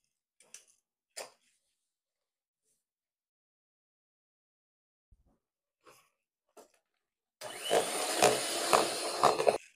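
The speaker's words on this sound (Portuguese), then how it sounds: "e vai bater essa mistura aqui" Electric mixer beating red velvet cake batter in a home kitchen, whirring loudly and steadily for the last two seconds after scattered faint knocks and bumps.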